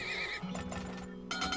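A horse neighs in the oil-drilling video game Turmoil, a short loud whinny with a wavering pitch, followed by clip-clop hoofbeats and brief game sounds.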